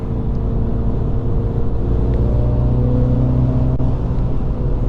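A MINI F56 JCW hardtop with an 8-speed automatic, heard from inside while driving with paddle shifts, gives a steady loud engine drone and road rumble with no clear shift breaks.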